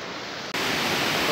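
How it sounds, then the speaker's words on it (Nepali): Waves of the Karnali river churn in a continuous broadband roar, loud and close, with no voices. "कर्णालीका छालै छाला"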